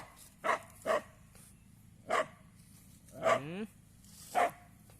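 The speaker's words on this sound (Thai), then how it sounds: "เห่ากันแล้วนะครับ" A dog barks at cows at a forest temple in Nakhon Phanom province, Thailand. Five short, moderately distant barks come in an uneven rhythm, the fourth stretching into a whiny yelp, over a low outdoor background.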